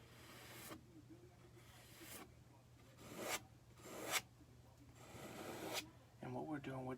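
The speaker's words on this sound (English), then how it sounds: "we're just scraping the excess off. We want it to be a very thin layer of paint" A palette knife scrapes excess paint off a canvas in several slow, rasping strokes, close and quiet, with a soft voice briefly heard at the end.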